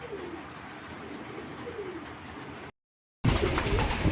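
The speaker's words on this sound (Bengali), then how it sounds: "কবুতর দুটা কালেক্ট করে এবং কবুতরগুলো খুবই ভালো" Grizzle pigeons cooing softly in a steady low murmur against constant background noise, broken by a brief dropout before a louder, noisier stretch.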